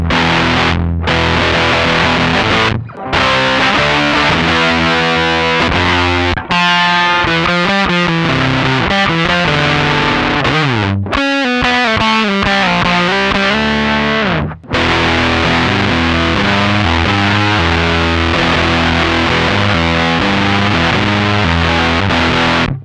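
Electric guitar played through a BOSS FZ-1W fuzz pedal with the fuzz knob turned high, loud and thick with saturated distortion as sustained chords and riffs ring out, separated by a few short pauses and no voice.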